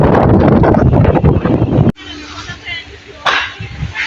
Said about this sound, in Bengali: কি বাতাস রে